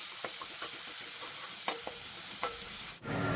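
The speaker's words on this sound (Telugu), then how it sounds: "అందులో కొంచెం అల్లం వెల్లుల్లి పేస్ట్ని కూడా వేసుకొని పచ్చివాసన పోయేంత వరకు కూడా బాగా ఫ్రై చేసుకోవాలి" Ginger garlic paste fries with mustard seeds in a pan for a paneer gravy curry, giving a steady close sizzle broken by scattered sharp pops and stirring scrapes, ending in a brief thump.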